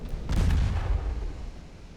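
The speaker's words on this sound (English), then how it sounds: "There we go, she's getting another torpedo now." A torpedo strikes a warship in a naval battle game set in an 1897 Ottoman campaign, landing as one loud, deep explosive boom that rolls and fades over about two seconds with no talk.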